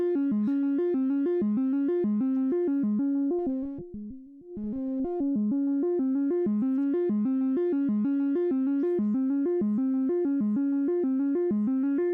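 A steady synthesizer tone with a repeating stepped note pattern, a basic waveform through a low-pass filter, mellow and slightly muffled, briefly dropping out partway before the sequence resumes.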